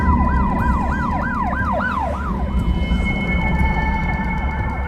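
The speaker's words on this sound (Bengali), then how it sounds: "এই জগা চুপ কর সামনে পুলিশের গাড়ি তাড়াতাড়ি কেটে পড়তে হবে" A cartoon police car siren wails loudly in rapid rising-and-falling sweeps over road noise, then settles into a steadier tone.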